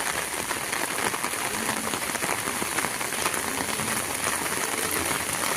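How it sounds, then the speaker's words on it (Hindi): Heavy rain pours steadily outdoors as a group of women walks to a temple, a dense continuous hiss of drops on the ground with no talk. "कितनी बारिश लगी हुई है"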